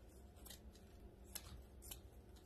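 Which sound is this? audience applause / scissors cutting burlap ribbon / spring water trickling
scissors cutting burlap ribbon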